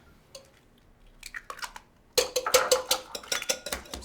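Eggs are cracked and dropped into waffle batter already mixed with melted butter, heard as a few sharp taps followed by a run of close, wet cracks, squishes and clatter against the bowl.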